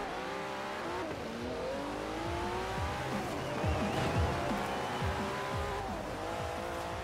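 A Porsche GT2 RS racing a lakeside sprint in Forza Horizon 4, its engine revving and rising through gears alongside other cars, with brief tire squeal, loud and continuous throughout.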